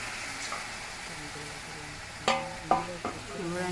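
Pointed gourd frying in oil in a pan, stirred with a utensil, a low steady sizzle broken by several sharp scraping clinks against the pan toward the end, close and clear with no talking.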